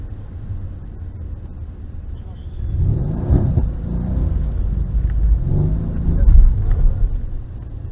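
A Mercedes-Benz car accelerates on a track: a low engine rumble swells with rising revs in a couple of surges, heard from inside the cabin.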